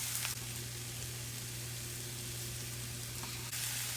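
Spinach sautés in olive oil with shallots in a pan, making a soft, even sizzle throughout under a low steady hum, with a faint clatter near the start and end.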